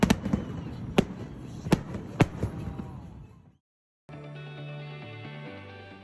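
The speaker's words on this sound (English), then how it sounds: "From the boat we had front row seats to the fireworks." New Year fireworks burst over a bay, heard from a boat out on the water: several sharp booms and crackles at irregular intervals, some loud and near. They stop abruptly, a brief silence follows, and then steady music begins.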